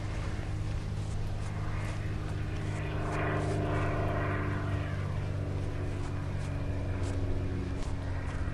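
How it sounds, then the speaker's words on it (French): A propeller airplane drones steadily overhead in the arctic survival game Ice Station Z, a continuous low engine hum with a slight swell midway, heard alone without any talking. "il y a un avion"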